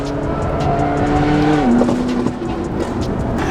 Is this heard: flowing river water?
no